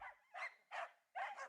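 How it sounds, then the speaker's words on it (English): Several dogs bark in a quick run of four loud bursts, each followed by a short gap, up close with no talking over them. "All the dogs started barking."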